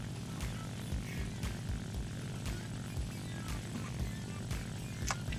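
Propeller-driven fighter plane engine roaring at full throttle in a dive at about 170 mph, in the War Thunder combat flight game; a steady, loud, droning engine with a pulsing low rumble throughout, no talk.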